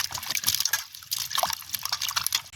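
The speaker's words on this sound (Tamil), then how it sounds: "நாங்கள் நல்ல வடிவாக கழுவி எடுப்போம் ரெண்டு மூணு தடவை கழுவி எடுப்போமேனே" Grated raw papaya being rinsed by hand in water, with steady sloshing, trickling and splashing close by, no talking.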